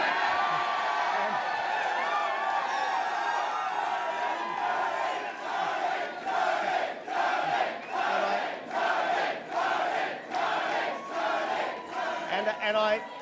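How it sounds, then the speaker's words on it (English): An enthusiastic election night crowd at an Australian federal election gathering cheers and whoops continuously, with loud rhythmic swells of chanting in the second half and some voices shouting over the din. "this is a very, very enthusiastic crowd"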